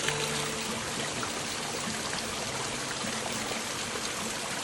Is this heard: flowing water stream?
yes